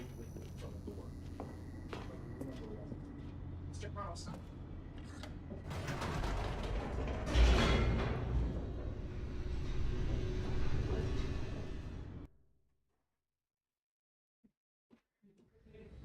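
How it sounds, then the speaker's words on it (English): Elevator plunging downward in The Stanley Parable, heavy mechanical rumble and clanking that swells into a loud rushing roar, then cuts off abruptly into near silence with a few faint ticks. "The elevator raced downward, plummeting towards an unknown fate."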